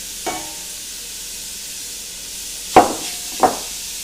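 Bacon pieces sizzling in a pot over medium heat for Polish haluski, a steady soft hiss running throughout, broken by three sharp, close metallic clinks of a utensil against the pot, one early and two near the end.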